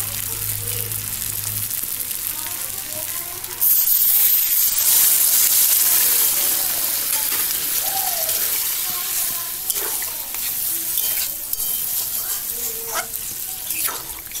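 Water poured into a pan of sautéed pointed gourd and potato hits with a sudden loud rush and sizzle, then settles into a softer bubbling hiss with faint clinks, fairly close and without speech.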